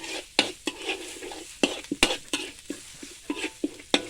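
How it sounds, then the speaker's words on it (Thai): Chicken, curry paste and bamboo shoots stir-fried in a pan, brisk irregular scrapes and clanks of a spatula over a crackling sizzle, close and fairly loud. "ผัดให้หอมเลยพี่น้องครับ"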